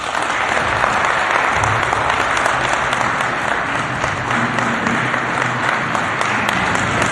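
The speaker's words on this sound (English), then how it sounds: "Another round of applause for the Executive Mayor" Sustained, loud applause from the audience at a municipal investment summit in Matjhabeng, dense steady clapping from a large crowd throughout.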